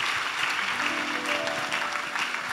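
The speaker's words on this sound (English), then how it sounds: "Shall we give a big clap of praise unto the Lord?" Church congregation at an Assemblies of God Sunday service clapping in praise, steady continuous applause filling the room at moderate level, with a faint sustained tone beneath it.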